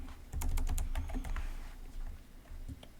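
Keys clatter on a computer keyboard as a username is typed, a quick burst of close, crisp clicks followed by a few scattered taps, with no talking.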